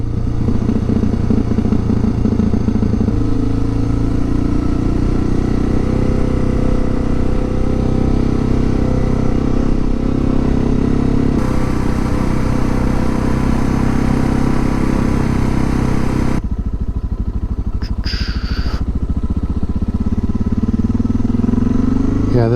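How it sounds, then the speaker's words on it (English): A motorcycle engine braking in first gear down a very steep paved descent on an adventure route, a steady loud engine drone with clatter, close and continuous, a brief change partway through. "Using that first gear engine braking"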